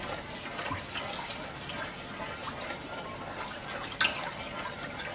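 Warm water trickles and splashes steadily as it is poured into a bowl with a teaspoon of sugar and stirred for grissini bread dough, with a few small clinks near the end and no talking.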